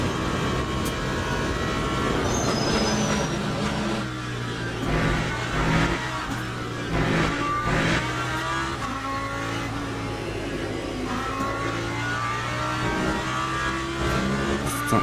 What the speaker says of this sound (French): c'est une Lambo derrière, non c'est une Porsche